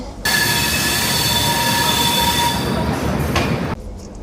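Passenger train rolling steadily after leaving the station, a loud close rumble with high wheel squeal running throughout, cutting off abruptly near the end.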